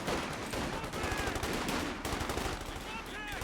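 An MG42 machine gun fires in rapid, continuous bursts during a World War II strategy game battle, loud, dense gunfire with clattering rounds filling the whole span.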